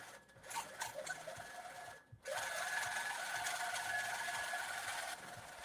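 A sewing machine stitches quilt blocks in a home basement sewing room, running in a steady mechanical whir with a brief pause near the start, then continuing evenly at moderate level with no talk.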